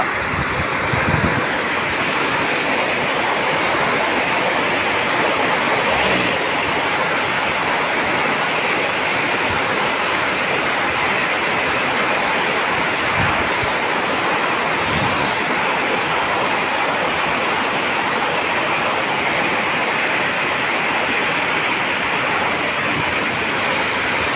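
Floodwater of the Bharathapuzha river overflowing its banks during heavy rain, a loud, steady roar of rushing water that fills the whole scene without letting up, with no voices.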